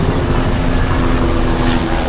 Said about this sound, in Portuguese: o barulhinho do helicóptero passando